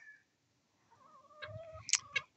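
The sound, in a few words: chickens clucking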